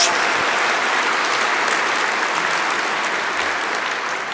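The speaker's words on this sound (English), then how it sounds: "Let's give him a big round of applause again" Steady, dense applause from a large audience at a university launch event fills the whole stretch at an even, loud level, with no talk over it.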